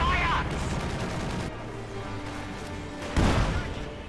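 Gunfire and bombardment in the Company of Heroes 2 real-time strategy game, with bursts of shots and booming impacts at the start and again near the end, and softer battle noise between.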